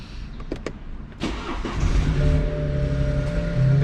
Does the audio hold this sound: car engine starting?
yes